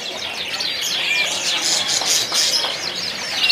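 Many F1 canaries twitter and chirp continuously at a bird kiosk in a market, a dense high chorus with someone talking over it.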